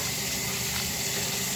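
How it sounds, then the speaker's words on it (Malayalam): Water splashing steadily at a sink as a face is rinsed with plain water, a continuous close wash of running and splashing sound with no talking. "വെള്ളത്തിൽ മുഖം കഴുകി കൊടുക്കാം."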